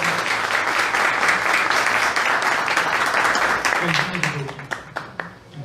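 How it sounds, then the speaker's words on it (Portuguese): An audience gives a round of applause welcoming cartoonist Duke, a loud, dense burst of clapping that thins out and fades near the end, with a voice coming through as it dies down. "Uma salva de palmas, pessoal."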